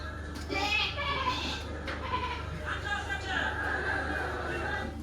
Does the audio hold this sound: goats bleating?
yes